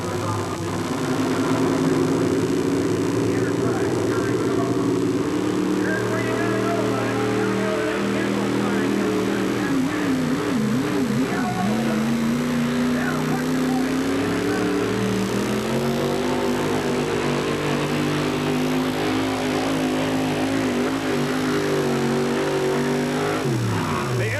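A Chevrolet 4WD pulling truck roars continuously at full throttle during a truck pull, a loud sustained engine drone with shifting pitch as it bucks and bounces down the track, an announcer's voice faintly underneath.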